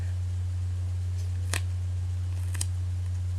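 Scissors snipping pieces of duct tape in half for a homemade wallet, two short crisp cuts heard close up over a steady low electrical hum, with no talking.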